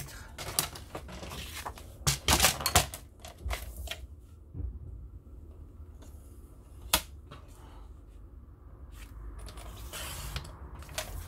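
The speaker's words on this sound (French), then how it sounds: "je vais prendre cette chute-là et je vais venir la couper à 10 cm" A paper scrap being cut to size for a handmade card, with several short crisp snips and clicks of scissors at irregular intervals over a quiet background, close up.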